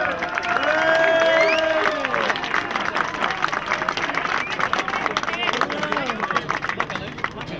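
A crowd applauds the home team at the prize ceremony of the Belgian Homeless Cup 2012 football tournament, sustained clapping and cheering with babbling voices and a loud announcer talking over it throughout.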